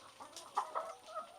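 Laying hens clucking on an egg farm in Indonesia, several soft overlapping clucks at moderate distance over a steady barn background, no talking.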